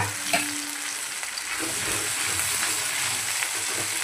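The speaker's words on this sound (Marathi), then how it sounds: "ग्रेव्ही छानपैकी असं आपल्याला तेलामध्ये परतून घ्यायचं" Mutton gravy fries and is stirred in hot oil, a steady close sizzle with scraping spoon strokes running throughout, no voices.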